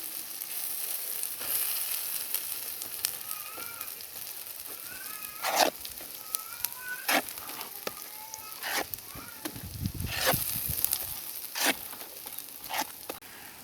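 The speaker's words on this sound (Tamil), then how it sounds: "இந்த மாதிரி ஸ்மாஷர் வச்சு அப்படியே நசுக்கி விட்டுருங்க" A masher crushing boiled egg yolks in a frying pan for egg yolk masala, with repeated soft scraping and thudding strokes against the pan over a faint sizzle.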